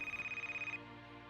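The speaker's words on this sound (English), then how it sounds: "Then, with just 5 seconds left, the phone rang." A telephone bell rings in a rapid, even trill for under a second and then cuts off, leaving a fading resonant tail; close and clear, with no voices.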